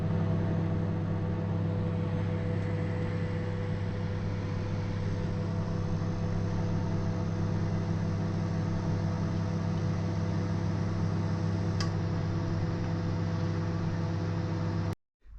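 A microwave oven runs with a steady, even electrical hum for about fifteen seconds, with a faint click near the end before the sound cuts off abruptly.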